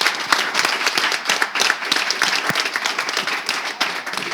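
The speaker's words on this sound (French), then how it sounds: "je demande à tout le monde ici présent de lui faire des acclamations" An audience at a boxing event bursts into loud applause, with individual claps standing out sharply against a dense background of clapping and some crowd noise, lively and close throughout.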